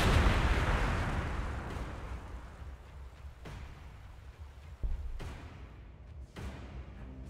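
Booming gunfire from the strategy game Warhammer 40,000: Gladius, with a heavy blast at the start decaying into rumble, then a few fainter sharp reports spaced through the rest, with no talking.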